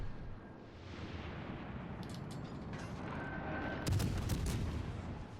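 Naval gunfire aimed at the Jean-Bart battleship in World of Warships Legends, from the USS Flint, with a loud boom near the end over a continuous low engine and ocean rumble.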